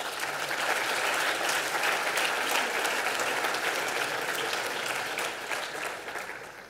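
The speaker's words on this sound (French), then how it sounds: "Vous pouvez les applaudir." Sustained, dense applause fills a conference hall at a PHP developer forum's closing keynote, a steady roar of many hands that holds evenly before easing off at the end.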